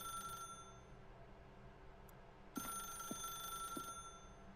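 A telephone rings in The Stanley Parable: Ultra Deluxe, a faint electronic bell sounding in short repeated bursts over a quiet ambient room tone.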